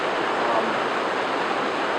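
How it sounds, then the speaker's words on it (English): Ouzel Falls pours with a heavy, steady rush of water close by. The even broadband roar stays unbroken and no one speaks over it. "Ouzel Falls here behind me."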